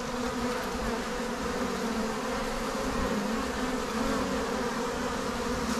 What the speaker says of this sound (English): These are the honeybees. They're making honey.